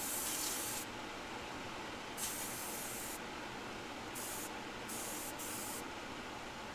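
An airbrush sprays a coat of Timbertech paint in several hissing bursts separated by short pauses. The bursts are steady and close, and no voices are heard.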